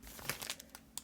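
A foil pack of 1991/92 Score Serie A trading cards is torn open close up, giving brief crinkling and tearing rustles in a quick flurry.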